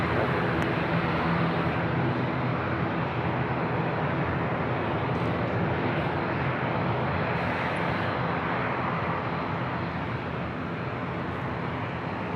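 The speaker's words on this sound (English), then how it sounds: "737-800, now rolling down runway 27." A Boeing 737-800 rolls down runway 27 at San Diego airport for takeoff, its jet engines a loud, steady broadband roar that holds throughout without talk.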